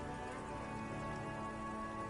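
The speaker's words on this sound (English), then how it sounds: "Urban coastline, rain dripping off Eternite-covered roofs" Rain dripping off Eternite-covered roofs along an urban coastline in a video game, a steady, even patter of drops that continues without a break, soft and fairly faint throughout, with no voices.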